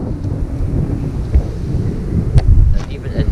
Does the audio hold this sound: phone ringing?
no